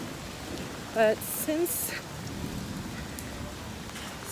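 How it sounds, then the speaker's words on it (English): Heavy thunderstorm rain pours down in Jerusalem as a steady, even hiss throughout, with a brief spoken phrase near the start. "Thunder, maybe some lightning, getting some thunder."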